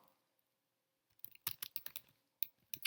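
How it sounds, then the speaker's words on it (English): Keys clatter on a computer keyboard as a baseball player's name is typed into a search field, a quiet pause giving way to quick bursts of close, crisp clicks. "We'll type his name in there."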